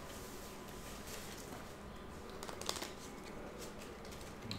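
Pandemic board game cards are shuffled at a table, giving a soft continuous riffling rustle with a few sharper snaps near the middle, quiet and with no talking.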